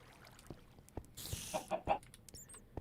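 Minecraft chickens in a video game cluck in short soft bursts, a few scattered clucks with brief clicks between, fairly quiet and close, no talk.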